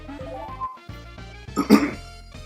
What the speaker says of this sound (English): Sorry guys, I had to clear my throat.